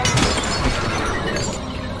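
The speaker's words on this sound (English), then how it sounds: "That knife shattering was a little sus." A knife shatters in a scene from the TV show Smallville, a loud sudden glassy burst with bright scattered fragments that hiss away over two seconds.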